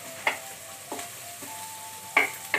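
Onions softening in a hot pan for an eggplant dish, a faint, steady sizzle punctuated by a few sharp scraping stirs spaced across the moment.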